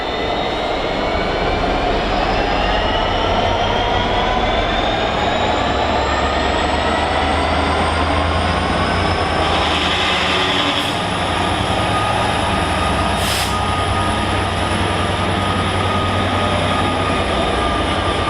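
Class 66 freight locomotive 66758 pulling away from Doncaster station on the East Coast Main Line, a loud, sustained diesel rumble with rail noise and a faint high wheel squeal, steady throughout.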